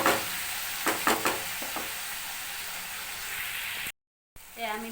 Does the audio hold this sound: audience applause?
no